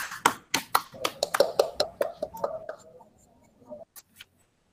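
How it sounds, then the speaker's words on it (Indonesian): A small classroom group claps briefly, a quick patter of close handclaps that fades into a few scattered final claps and then quiet. "Tepuk tangan untuk Fitri"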